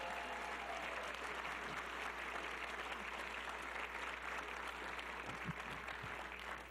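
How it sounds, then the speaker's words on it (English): Steady audience applause at a college athletics awards ceremony honoring conference coaches of the year, a dense continuous patter of clapping that holds evenly throughout with no talk over it. "Let's give them a big round of applause."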